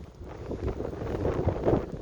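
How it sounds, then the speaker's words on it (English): Low, rumbling wind buffets the microphone in uneven gusts, a steady muffled roar with no voices. "It's really windy today"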